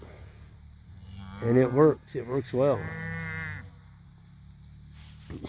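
South Poll cattle moo in a pasture, a few loud, drawn-out calls close by in quick succession, with a voice speaking briefly over them.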